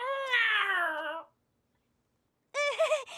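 A cartoon cat in DC Super Hero Girls gives two meows, separated by a short silence. The first is a long, falling meow and the second is a shorter, wavering one. Both are close and clear.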